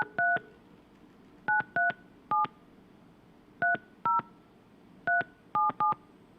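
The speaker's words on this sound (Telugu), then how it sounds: "ఎమ్మెల్యే కోనేటి ఆదిమూలంకి ఫోన్ కలుపుతూ ఉన్నారు బిగ్ టీవీకి సంబంధించినటువంటి టెక్నికల్ టీం." Phone keypad tones dialed by a television technical team calling a politician in Satyavedu, heard as several quick bursts of paired beeps, clear and close, with short pauses between groups and no talk.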